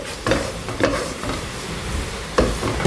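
Leftover rice stir-fried with tomato ketchup in a sizzling pan, with three distinct scraping tosses of the spatula over a steady, close hiss of frying.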